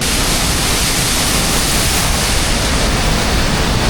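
A waterfall near Jackson Hole roars in a loud, steady broadband rush of falling water, close and continuous with no voices.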